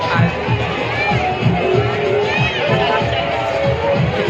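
A dense crowd murmurs and bustles at a Mahashivratri temple fair in Powai, with steady overlapping voices and movement throughout, close and fairly loud.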